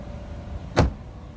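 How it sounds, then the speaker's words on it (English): A 2021 Chevrolet Equinox LT AWD power liftgate closes by itself: a faint motor hum, then one short solid thump as it latches, with no talk. "Just press the button here and the door closes automatically."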